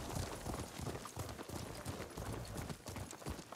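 Horse hooves trot in a quick, steady clip-clop rhythm, continuous and fairly close, with no talking, from the video game Ghost of Tsushima Director's Cut on PS5.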